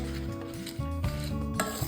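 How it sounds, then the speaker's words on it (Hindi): Salt-free sweet potato chips are stirred continuously in a pan to keep them separate, giving steady scraping and clinking of a utensil against the metal over a constant sizzle-like hiss, with no talking. "अब इनको लगातार चलाते रहिए, जिससे कि ये अलग अलग रहें, एकजुट ना हो।"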